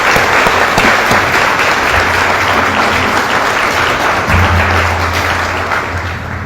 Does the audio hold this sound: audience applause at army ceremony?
yes